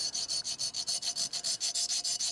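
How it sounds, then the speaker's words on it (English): Close, rhythmic rasping of a file smoothing a carved wooden sheep, about a dozen even back-and-forth strokes in quick succession with no talking. "Now we're just going to give it a little smoothing with a file"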